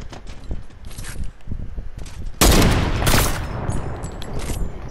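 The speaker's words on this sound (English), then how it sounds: "you will get the double shot with the sniper" Sniper rifle shots in Fortnite ring out amid scattered gunfire, with a loud sharp blast at mid-clip followed by a rumbling tail and more distant shooting.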